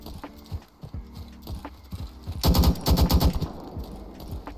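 Gunshots in a State of Anarchy video game, a rapid burst of several close, loud shots in the middle of the clip following scattered lighter thuds and footsteps, no talk.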